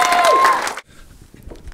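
A crowd cheers and applauds loudly for a person called up on stage, and the noise cuts off abruptly partway through, leaving quiet room sound.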